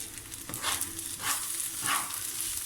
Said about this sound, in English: Now you can actually hear the rice frying